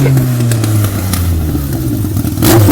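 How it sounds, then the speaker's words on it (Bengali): A toy super motorbike giving off a loud electronic engine rev, a sustained buzzing motor tone that wavers in pitch, close by with no talking. "আমার পরের ভেহিকলসটি হলো একটি সুপার মোটর বাইক।"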